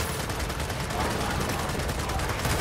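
Rapid SMG gunfire in Gears of War 4, a dense, loud unbroken burst of fast shots that fills the whole moment without pause.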